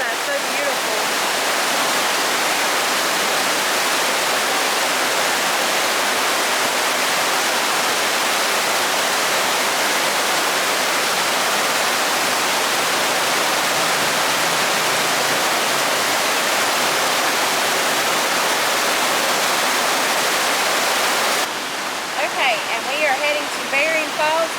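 A river rushes steadily beneath a shady bridge on the Baring Falls trail in Glacier National Park, Montana, a loud continuous roar that thins out near the end.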